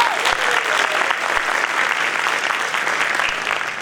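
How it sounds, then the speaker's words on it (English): An audience at a school winter band concert gives a big round of applause for a teacher, dense continuous clapping that holds steady at full strength throughout. "Can we give another big round of applause for Mr."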